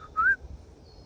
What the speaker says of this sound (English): there is a bird, and I don't know it, but its call goes